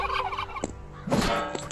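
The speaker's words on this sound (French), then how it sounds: "On va essayer de buter la dinde, mais ça m'étonnerait qu'on la chope." A wild turkey in a hunting video game lets out a loud, rattling gobble, then a second gobble follows, both fairly close amid quiet ambient outdoor sound.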